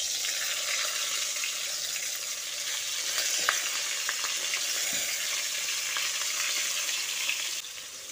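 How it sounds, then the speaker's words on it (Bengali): Salted, turmeric-coated eggplant pieces fry in hot mustard oil with a loud, continuous close-up sizzle, a few faint clicks scattered through it, easing slightly toward the end; no voices. "তেল ভালোভাবে গরম করে নিয়ে নুন হলুদ মাখানো বেগুনগুলো এর মধ্যে দিয়ে দিচ্ছি।"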